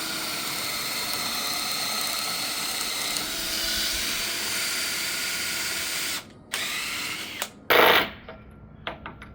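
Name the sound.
drill boring with a spiral bit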